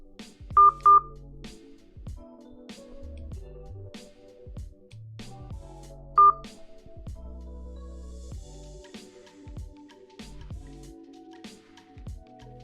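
Telephone keypad DTMF tones sound while dialing into a conference line: short bright beeps in clusters, with a few louder tones standing out, over quiet background clicks and thumps.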